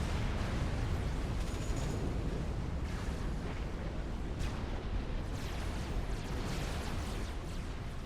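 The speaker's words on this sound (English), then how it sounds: "Many units firing into each other." Battle cruisers and many other units trading fire in a large Supreme Commander Forged Alliance battle, a dense, continuous rumble of distant explosions and artillery blasts with faint pops scattered throughout.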